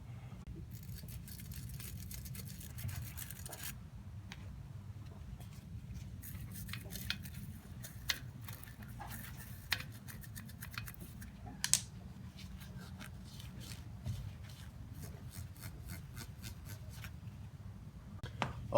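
The bottom bracket threads on a Cannondale bicycle frame are scrubbed clean with a brush, making close, dry, rapid bristle scratching in uneven bursts with a few sharper ticks, and a low hum runs throughout.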